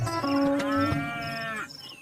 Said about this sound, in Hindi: बंकू भैंस की रस्सी पकड़ लेता है।